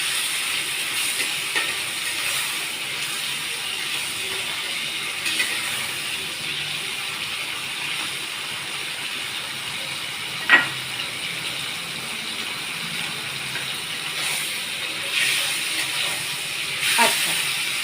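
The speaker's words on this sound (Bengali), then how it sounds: "খুবই হালকা করেই ভাজবো চিংড়ি মাছটা" Prawns fry lightly in a pan for doi chingri, giving a constant soft sizzling hiss with a couple of small sharp clicks and pops.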